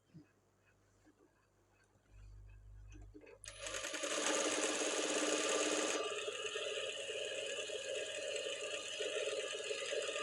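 A sewing machine stitches a blouse sleeve, starting after a quiet pause and then running fast and loud in a steady rattling whir that keeps going to the end, close by.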